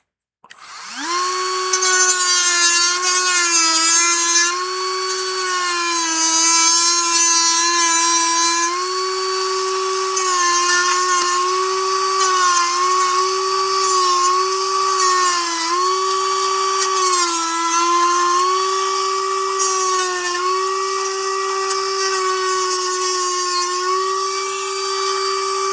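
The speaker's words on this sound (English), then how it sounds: "Get a Dremel down this little wall in here." A Dremel rotary tool grinds down a small wall on an RC part, a loud high-pitched whine that runs steadily for the whole stretch, its pitch wavering slightly as the load changes, with no voices.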